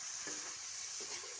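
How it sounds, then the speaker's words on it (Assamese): Meat fries in a pan with garam masala, ginger, garlic, onion and chili, giving a faint, steady sizzling hiss that continues briefly without any talk. "অকল মাংস ভাজিব আৰু জ্বলা ভাজি অকণমান ঠিক কৰিব"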